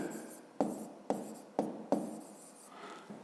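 Pen writing an answer by hand on paper during a 5th-grade maths exercise: four distinct strokes or taps with short scratchy rasps between them, close and fairly quiet, with no voice.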